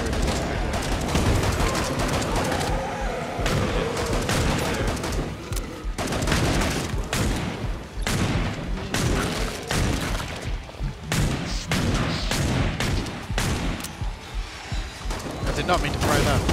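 Grenade explosions and gunfire in Killing Floor 2 pound away almost without pause, dense booms and rattling shots piling up loudly while voices shout underneath.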